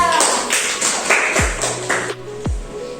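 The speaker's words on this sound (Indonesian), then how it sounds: "Kita tepuk tangan dulu untuk kelompok 3" A small class group claps for a presenting group of classmates, a short burst of sharp, close hand claps with a few louder strikes and brief ringing tones.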